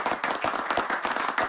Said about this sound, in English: It's like everyone's applauding right now.